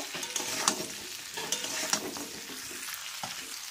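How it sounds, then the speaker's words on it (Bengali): Pre-fried chicken pieces for spicy chilli chicken being stirred in a hot pan, a dense close sizzle broken by repeated spatula scrapes and clatters at an uneven rhythm, no voices. "ওর মধ্যে ভেজে রাখা মাংসটাকেও দিয়ে দিলাম, আবারও নাড়তে থাকবো।"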